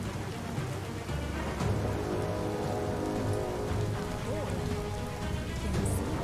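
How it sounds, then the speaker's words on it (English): Heavy rain pours in through a poor roof in the Biomutant video game, a dense, steady patter and hiss of drops on surfaces that continues evenly throughout. "We ain't got a very good roof. The rain's just coming straight in."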